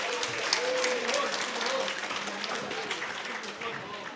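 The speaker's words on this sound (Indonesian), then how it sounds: "Tepuk tangan." An audience at an evening campus event applauds with dense, continuous clapping at a moderate level. A few voices and faint tonal sounds show through the applause before it tapers slightly at the end.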